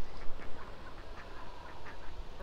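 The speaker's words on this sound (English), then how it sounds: "The quick peep of the ducks in the background." Ducks call in the background of a breezy August vegetable garden, a string of short quacking peeps repeated at a moderate distance over gusty wind noise, with no talking.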